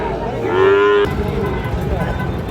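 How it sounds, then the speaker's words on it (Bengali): A Sahiwal bull calf at a cattle market lets out one loud, close moo, followed by a noisy outdoor market din. "দর্শক আমরা যে এখানেও 2টি গরু দেখতেছি, বেশ সুন্দর।"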